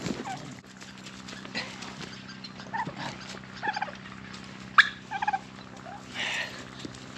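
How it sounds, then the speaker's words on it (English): Big farm turkeys gobble repeatedly in short bursts over a low steady hum, the calls moderately close and varying in loudness, with one sharp loud gobble near the middle. "Because these turkeys are so big, I suspect that they will be fairly easy to catch,"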